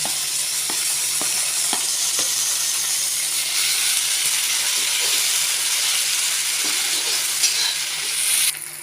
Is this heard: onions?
yes